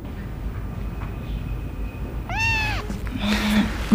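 A stray cat meows once, a clear drawn-out cry rising then falling, over a quiet indoor background with faint low hum.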